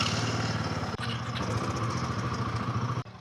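Royal Enfield Himalayan 450 motorcycle engines running steadily on a long road ride, a continuous low mechanical drone with a steady rumble and no talking, briefly dipping once before resuming.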